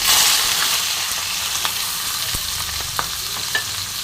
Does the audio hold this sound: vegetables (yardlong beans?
yes